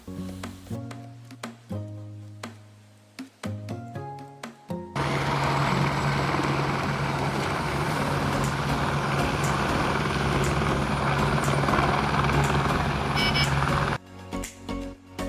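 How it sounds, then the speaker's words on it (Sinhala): A helicopter passes overhead while travelling near Nuwara Eliya, a loud, steady rotor roar that swells in suddenly after some brief background sounds, holds for about nine seconds, then cuts back down. "අනේ මෙතෙන්ට හෙලිකොප්ටර් යන පේනවා අපිට. මාර සද්දයක් තියෙන."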